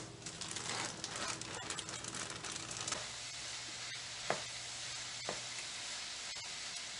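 Cauliflower cooking in a pan on medium heat gives a soft, steady sizzle and faint crackle close by, with a couple of light taps from stirring or the pan, and no talking.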